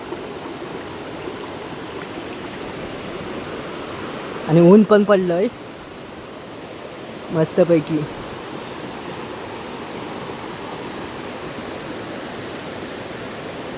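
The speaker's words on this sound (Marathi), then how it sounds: "झऱ्याचं पाणी बघ कसलं येतं" Clear spring water from a stream in the rainy season flows steadily in a continuous even rush, with someone speaking briefly twice over it.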